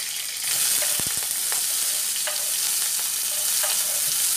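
Onion, green chilli, garlic, ginger and tomato sautéing together in a pan, a loud steady sizzle that swells as they hit the oil, with a few utensil clinks and scrapes close by.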